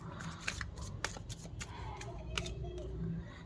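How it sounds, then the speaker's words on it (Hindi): Tarot cards being drawn and handled during a reading, with a quick run of crisp shuffling and flicking card sounds, close and fairly quiet, over a faint low hum. "कार्ड देखते हैं, दो कार्ड्स और निकालेंगे।"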